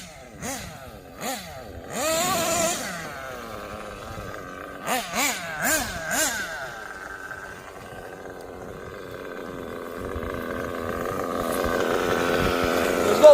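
Kyosho USA-1 Nitro V2 RC monster truck with a factory KE25 nitro engine run at full throttle on gravel, giving a buzzy, rising whine with sharp revving bursts and a steady loud drone toward the end.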